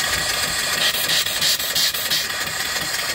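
Live steam engine running at about 200 RPM, an off-grid unit with boiler: a steady mechanical hum with rhythmic pulsing hiss bursts repeating roughly twice per second, close and fairly loud, no talking.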